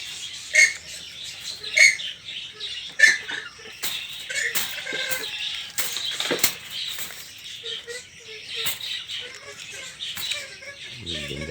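Purple swamphens (kalim birds), three pairs kept in captivity in Bagerhat, give repeated nasal calls and squawks in bursts over steady background noise, with a few sharp louder cries near the start.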